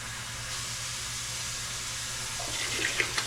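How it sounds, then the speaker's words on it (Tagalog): Hot water poured steadily into a pot of papaitan soup, a continuous splashing hiss with a faint hum underneath and a few brighter trickles near the end. "Lagyan natin na mainit na hot water."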